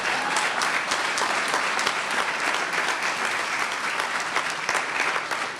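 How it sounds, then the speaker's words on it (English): Audience applause fills a school board business meeting, steady dense clapping from a crowd of many hands that holds at an even level throughout, with no talking over it. "Go ahead and clap."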